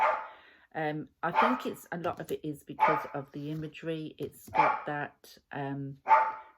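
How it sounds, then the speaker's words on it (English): Dogs bark in a kitchen at something outside, repeated sharp yaps scattered beneath steady nearby talk that runs through the whole stretch. "have to excuse the dogs, they're in the kitchen and they've obviously heard something outside"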